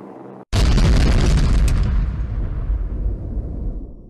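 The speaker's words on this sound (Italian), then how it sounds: "E poi un'enorme esplosione e un bagliore crescente che illuminava la cima della" A crashing Halifax bomber explodes in a loud, sudden boom near a mountain, followed by a long rumbling roar that slowly fades over several seconds.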